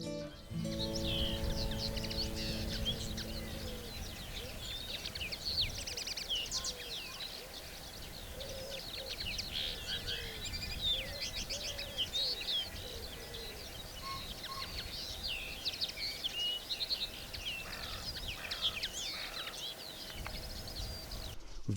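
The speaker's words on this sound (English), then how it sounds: "The bird song is just tremendous. I've got these linnets." Linnets and other birds singing outdoors at Bempton Cliffs seabird reserve, with quick bright chirps and warbles repeating throughout at moderate distance over a soft breezy background, and a short low hum near the start.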